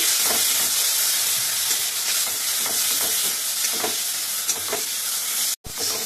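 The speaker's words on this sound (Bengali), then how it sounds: "দেখো বেশ আমটা একটু ভাজা ভাজা করে নিচ্ছি আমি" Boiled mango pieces fry in hot oil for a sour summer mango chutney, a loud continuous sizzle with rhythmic scraping strokes of a spatula stirring the pan, cut by a brief gap near the end.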